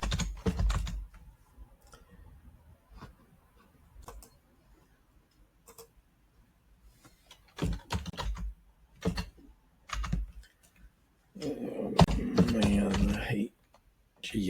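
Keys clatter on a computer keyboard in short scattered bursts of tapping, close and fairly quiet, with a denser flurry near the end and no talking.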